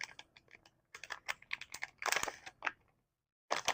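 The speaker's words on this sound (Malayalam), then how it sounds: "അപ്പോൾ നമുക്കത് അൺബോക്സ് ചെയ്തിട്ട് ബോർഡ് കാണാം." A motor timer module board being unboxed: short bursts of crinkling packaging and light plastic clicks and taps, with a brief silent pause before one final crinkle.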